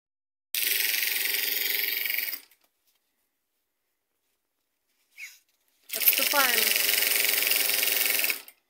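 A sewing machine runs a lock seam along a petticoat lining, in two sustained bursts of fast whirring stitching, a couple of seconds each, separated by a long quiet gap with a brief click.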